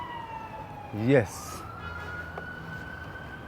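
Emergency vehicle sirens wail at a distance, their tone sliding and holding beneath room noise, while a voice briefly speaks over a short burst.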